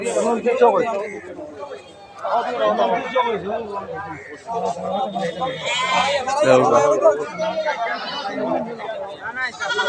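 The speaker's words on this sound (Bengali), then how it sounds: "অনেক ছাগল আছে, ছাগলের বাচ্চাও আছে" Goats and kids bleat repeatedly amid a crowded goat market, their cries mixed with steady human chatter and voices all around.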